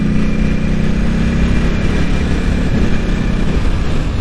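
A Ducati motorcycle engine drones steadily and close while riding through quick sweeping turns on a road in Japan, a continuous smooth hum with no talking.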